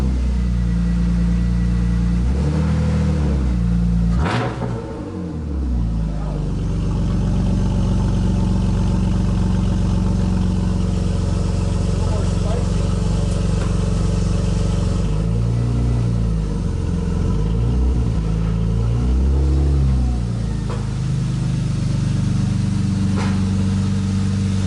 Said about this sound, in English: So your first time getting to hear the exhaust in person.